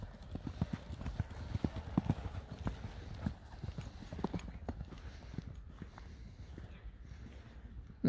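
Horses' hooves clip-clop in a steady, uneven walking rhythm, close and fairly loud, with sharp repeated knocks continuing throughout and faint background murmurs.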